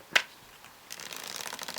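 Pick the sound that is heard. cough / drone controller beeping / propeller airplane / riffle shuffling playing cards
riffle shuffling playing cards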